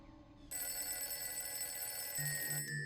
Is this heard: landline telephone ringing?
yes